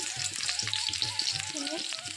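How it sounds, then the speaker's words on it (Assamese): Sliced onions fry in hot oil in a pan for an Assamese taro-leaf (maan kochu) dish, giving a steady close sizzle over a faint, intermittent low hum. "পিঁয়াজখিনি দি অলপ সময় ৰঙা হোৱালৈকে ভাজি ৰাখিম"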